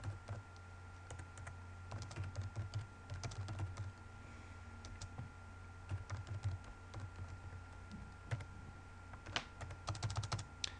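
Someone types a C program on a computer keyboard, producing quiet, irregular clusters of key clicks with short pauses between bursts and no talking.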